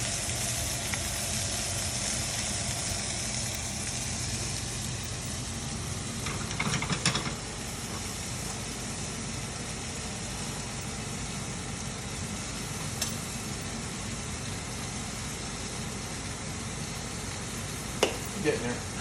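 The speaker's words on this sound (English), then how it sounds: "then just put the sear on the outside" A beef filet sears in a hot pan with a steady, moderately loud sizzle throughout, broken by a few brief clinks near the end.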